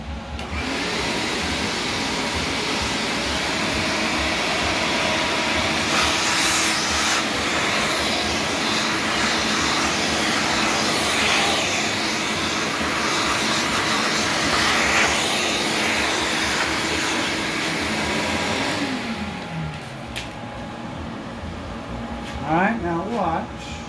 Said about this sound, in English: So I'm going to go ahead and vacuum that up.